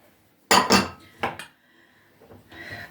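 Chicken and onion tipped into a bowl of potatoes for a savoury pie filling, giving a few close clattering knocks of a utensil against the bowl, then softer rustling and scraping.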